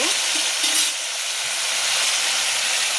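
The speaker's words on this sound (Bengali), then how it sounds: "এখন আমি ঝোলের পানিটা দিয়ে দিব" Water for the gravy goes into a pot of sautéed cauliflower and potato curry, making a bright, continuous hissing gush that stays close and fairly loud throughout, with no voices.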